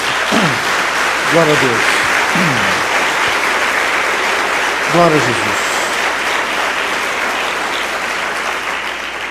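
A church congregation breaks into sustained applause that fills the space at steady loudness and slowly fades, while a voice calls out praise over the clapping a few times.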